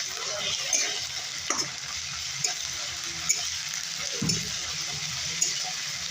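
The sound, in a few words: frying ginger garlic paste with onions in a pan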